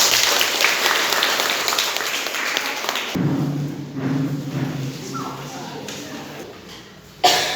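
Applause for a presenting group in a classroom or training session, a dense burst of clapping that cuts off abruptly partway through, followed by quieter room sounds and a voice.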